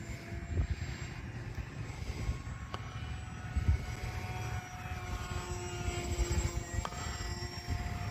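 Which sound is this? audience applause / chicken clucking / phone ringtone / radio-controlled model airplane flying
radio-controlled model airplane flying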